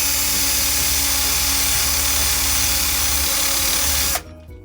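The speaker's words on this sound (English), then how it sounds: "It's nice and simple attachment to a regular drill. Wire brushes." A regular power drill spins a wire brush attachment against a metal part while restoring a Mk3 Cortina 2000E, a loud, steady, continuous whine and scraping that stops abruptly near the end.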